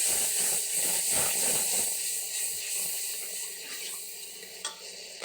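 Water is poured onto onions cooking in a pan for mash dal, a steady close hiss and gurgle that fades gradually over several seconds, ending with a brief clink.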